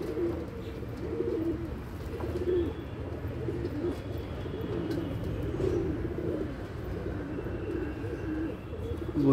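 Pigeons cooing steadily throughout while being bathed, a soft continuous murmur of low calls with faint chirps and no speech.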